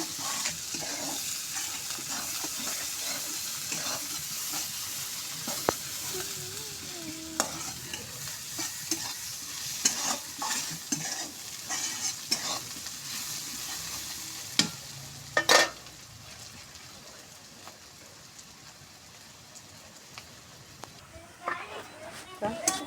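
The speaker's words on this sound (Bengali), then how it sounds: "ঝাল পেঁয়াজটা লাল লাল করে ভাজা হয়ে গেছে" Onions and slit green chilies fry in a pan of oil after fish has been fried and removed, with steady sizzling and scattered scraping stirs and occasional sharper clinks; no talk is heard over the cooking.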